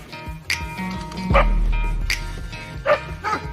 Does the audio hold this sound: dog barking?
yes